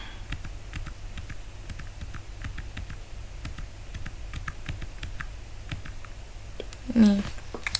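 A command typed on a computer keyboard while setting up a Squid proxy server, a quick steady patter of light key clicks close by, ending with a slightly louder keystroke or two and a brief faint sound.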